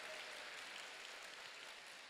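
Church congregation clapping together at a summer revival meeting, a steady wash of many hands applauding, fairly faint and distant, with no talking over it.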